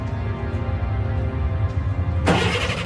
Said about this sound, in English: The truck's engine started.